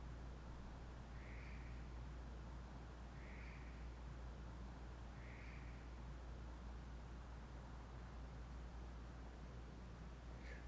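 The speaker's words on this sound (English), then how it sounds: "We've only heard the crow once." Three faint, hoarse crow caws sound at even intervals from a distance, each a short rasping call, over a steady hiss and low hum inside an old Nevada state prison.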